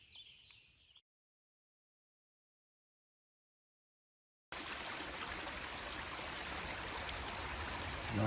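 A flowing stream on a forested trail, heard as faint rushing water at first, then a brief near-silence, and then a steady, full rush of water that continues to the end.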